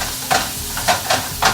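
Ground beef browning in a skillet for a stuffed pepper dish, a constant close sizzle broken by several short scraping stirs in a loose rhythm.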